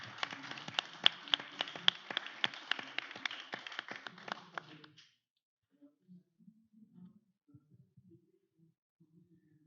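Panel audience at a games convention claps in a short burst of scattered, moderately near handclaps that stops abruptly about halfway, followed by quiet with faint shuffling and soft sounds.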